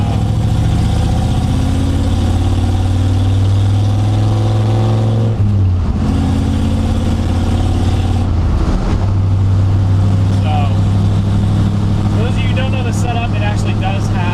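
Ford F100 truck with a Tremec 5-speed manual transmission and Pro 5.0 short shifter, engine droning steadily while driving, dipping briefly during gear changes, with someone talking over it throughout.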